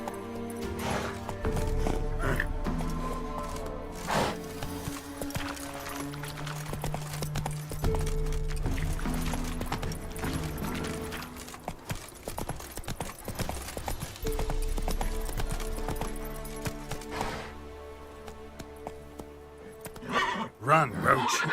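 Roach the horse gallops in Witcher 3, with rapid clip-clop hoofbeats and repeated whinnies over steady game music, and a voice talks in places.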